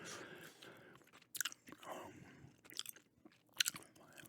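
Gum chewing up close, wet smacking and crunchy bites that come in uneven bursts with short quiet gaps, soft and intimate with no talking.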